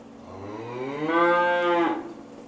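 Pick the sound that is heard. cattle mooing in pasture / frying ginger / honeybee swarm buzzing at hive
cattle mooing in pasture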